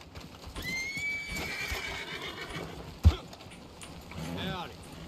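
A video-game horse whinnies with a rising, wavering neigh, along with hoof clip-clops, a sharp thud, and a later snort, heard fairly close amid background noise.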